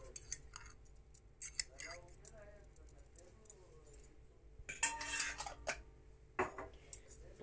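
A spoon clinks and scrapes against a dish while béchamel, egg and tomato sauce are mixed together, the small metallic taps quiet and intermittent as someone talks over them.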